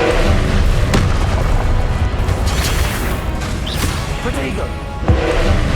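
Confringo spell blasts in the Hogwarts Legacy video game: loud booming impacts with crackling bursts, set within a dense, continuous roar of combat effects, with a few sharper hits standing out.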